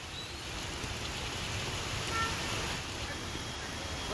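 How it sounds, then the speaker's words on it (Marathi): Heavy downpour over Pune after four days of continuous rain, a steady dense hiss of rainfall at constant loudness throughout with a low rumbling wash underneath. "सलग 4 दिवस मुसळधार पाऊस पुण्यामध्ये झालेला आहे"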